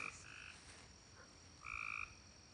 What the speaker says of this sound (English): Oh, that was the frog.